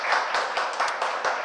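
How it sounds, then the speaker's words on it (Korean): A short burst of applause comes from the audience at a software policy forum panel discussion, with clapping that rises and falls in a few quick waves over a moment. "패널 토론에 참석해주신 여러분들께 큰 박수 부탁드립니다"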